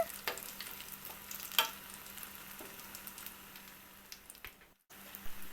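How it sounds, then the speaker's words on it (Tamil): Crispy snacks frying in oil and being flipped to cook the other side, a faint steady sizzle with occasional light clinks and scrapes of turning, close but quiet, with a brief break near the end. "ஒரு பக்கம் ஃப்ரை ஆன பிறகு இதை இன்னொரு பக்கமும் திருப்பி போட்டு ஃப்ரை பண்ணணும்"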